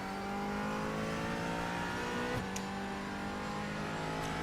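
Race car engine in the iRacing sim at Daytona, a steady high drone with a sharp double-tap upshift midway as the pitch drops and then carries on, loud and alone.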